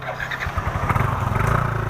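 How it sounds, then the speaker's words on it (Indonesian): A motorcycle engine turns over and catches, settling into a steady, rumbling idle with a few throaty pulses, close by. "Ah, motor itu udah mulai ini tuh."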